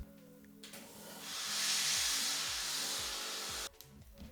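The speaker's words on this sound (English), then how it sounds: "So now we are going to steam it and we are going to finish the other side." A steam iron presses sewn fabric, releasing a strong, steady hiss of steam that swells, holds for about two seconds and then cuts off abruptly, with soft background hum before and after.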